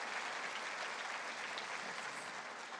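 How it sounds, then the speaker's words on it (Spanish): Audience applause at a public accounting congress, a steady dense wash of many hands clapping at once, loud and sustained throughout with no break. "Un fuerte aplauso para ella."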